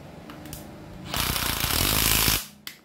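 A Japanese-surplus cordless brushless drill runs in hammer mode for about a second and a half, a loud, dense rattling burst that starts abruptly and cuts off cleanly, followed by a short click.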